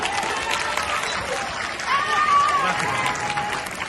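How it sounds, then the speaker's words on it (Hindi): Audience applause at an outdoor Ramleela stage event, a steady wash of clapping from a crowd that swells slightly midway and carries on throughout, with voices mixed into the noise. "जोरदार तालियां"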